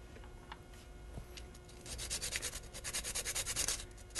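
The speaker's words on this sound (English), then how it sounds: "I have a nutmeg grater here and then a little box that I keep my nutmeg in." Fresh whole nutmeg rubbed across a small cheese grater gives close, dry rasping scrapes that start sparse and then settle into quick, even back-and-forth strokes.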